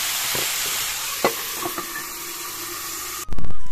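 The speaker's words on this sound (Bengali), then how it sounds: "ভেজে নিচ্ছি।" Lafa greens fry in a covered pan with a soft, steady sizzle and a few light knocks, ending in a sudden louder burst of hissing near the end.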